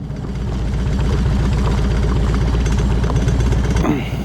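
A Harley-Davidson motorcycle ridden just after a fork oil change gives a loud, close, steady engine rumble with a fast pulsing beat, a slight shift near the end.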